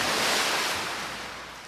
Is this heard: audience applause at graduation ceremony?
no